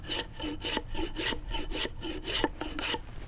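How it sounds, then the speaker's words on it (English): A wooden stool leg is shaved by hand, giving rhythmic rasping scrapes, about eight strokes in a steady back-and-forth pattern, close and clear with no talking. "now I'm going to start shaving the bottom of the leg down to 35"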